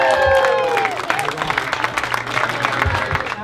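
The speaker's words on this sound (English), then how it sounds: "let's give them a round of applause" A wedding audience breaks into applause and cheering, with scattered clapping over lingering music tones and crowd chatter, fairly loud and close.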